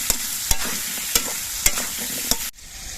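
Potatoes fry with salt in a pan, giving a steady sizzle broken by sharp utensil clacks as they are stirred, until the sound cuts off abruptly near the end.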